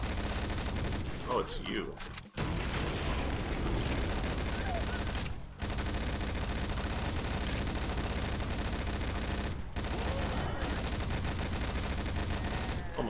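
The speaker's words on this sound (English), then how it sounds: "Heavy machine gun." Heavy machine gun fire in Doom inside an abandoned factory, dense continuous loud bursts with brief breaks, over game music, with a voice speaking briefly.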